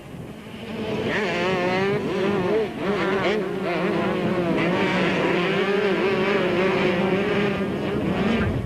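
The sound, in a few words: racing motorcycles roaring past during a race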